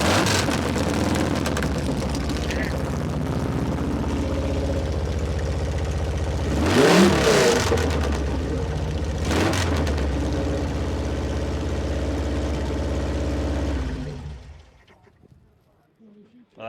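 A dual port Volkswagen engine in a dune buggy runs loud and close at outdoor cars and coffee, rumbling steadily with two sharp revs before cutting off into near silence, voices faintly underneath.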